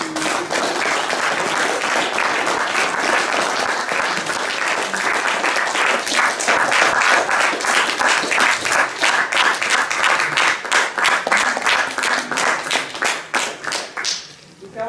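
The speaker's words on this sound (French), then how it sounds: "je propose peut-être qu'on applaudisse nos musiciennes" An audience at an ecumenical Lenten gathering at the Fondation Martin Bodmer applauds the female musicians, with loud, steady clapping from many hands that swells, keeps on for well over ten seconds, then tapers off into a few final claps.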